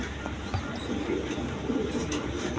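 Pigeons in a seller's loft, including red Bombay chicks, give soft, low cooing, faint and continuous beneath quiet background noise.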